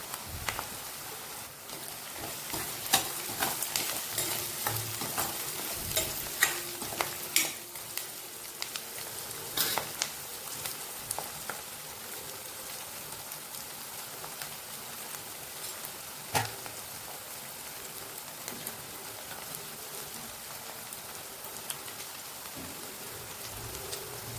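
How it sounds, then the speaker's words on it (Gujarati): Manchurian vegetables with chopped capsicum fry in a pan under a continuous soft sizzle, with scattered sharp clicks and scrapes as they are stirred, all fairly quiet and close. "આપણે હલાવતા રહીશું એટલે બળી ના જાય, ઢાંકી ના જાય."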